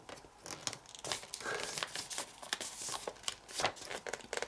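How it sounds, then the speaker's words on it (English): Sheets of paper being folded into a paper airplane, with layers pushed inside and the model creased in half, give close, steady crinkling and rustling with sharper crunchy snaps throughout. "bring these two flaps together, pushing all of those layers inside and folding it in half"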